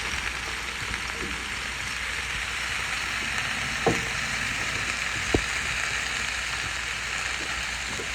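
Squash hitting hot avocado oil in a pan gives a steady, soft frying hiss throughout, with a couple of sharp pops and clinks rising out of the sizzle.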